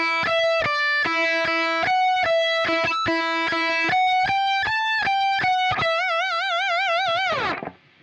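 A climbing electric guitar solo run steps up through clear separate notes, with distortion and effects. It ends on a held high note with wide, heavy vibrato, loud and close, then cuts off.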